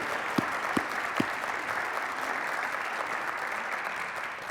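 A few sharp, close claps start a burst of audience applause at an awards ceremony for climate grand prize and honorable mention winners, which then continues as a steady, even wash of clapping.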